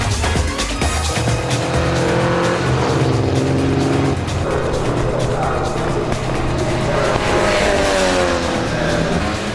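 Pre-1966 vintage race cars under 2 litres, including a BMW TI, roar past on a circuit at a historic racing festival, with loud sustained engines, shifting revs and tire squeal, and a voice talking underneath.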